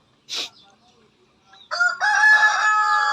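A brief sharp squawk, a pause, then a loud, close crow from a black Rhode Island rooster that rises and holds its drawn-out final note.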